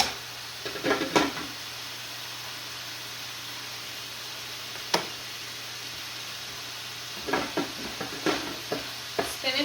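Spinach sizzles in a pan on a stove top under a held lid, with a steady hiss broken by several clattering bursts of stirring near the start and toward the end, plus one sharp knock in the middle.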